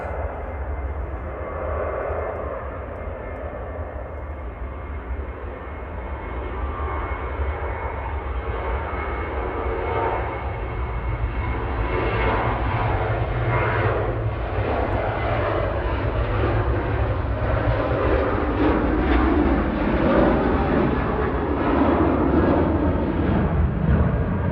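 A Qatar Airways Boeing 777 departs Manchester Airport, its engines a loud, continuous roar that swells slightly as the jet climbs away, heard from outside with no talk over it.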